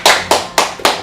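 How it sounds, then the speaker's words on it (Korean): Hands clap four times in a steady rhythm at a Tuesday church prayer meeting as a group welcomes a newcomer, each clap crisp and close. "또 박수로 환영하겠습니다"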